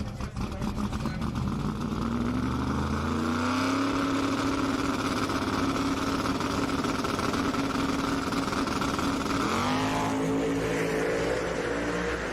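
Pro 275 drag race cars roaring loudly at the line, engines building from a rough idle into a sustained high-revving launch, with a brief shift in pitch near the end.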